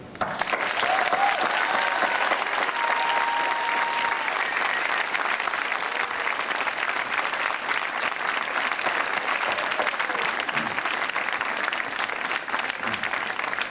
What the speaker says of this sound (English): I ask that you show your appreciation to them in the customary way with heartfelt applause.